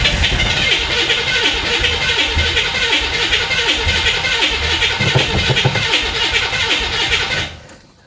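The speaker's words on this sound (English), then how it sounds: "We did spray a considerable amount of starting fluid down the engine, so I'm not surprised that it kind of kicked off for a split second there." A flood-damaged 1966 Chevy Impala SS with a newly replaced fuel system, primed with starting fluid, cranks on its starter in a loud, continuous, rough churn for about seven seconds before cutting off abruptly into near silence.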